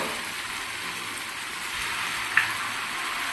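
Sweet jowar flour appalu frying in hot oil: a continuous, even, fine crackling sizzle at moderate level with one brief sharp pop, no talking.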